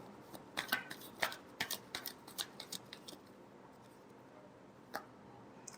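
Tarot cards riffled and shuffled up close, a quick run of crisp flicks and snaps that thins out into a few scattered taps against a quiet background.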